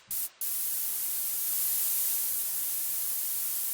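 Steady broadband synthesizer hiss from Omnisphere filling the stereo field, starting after a brief burst and dropout, then holding loud and even.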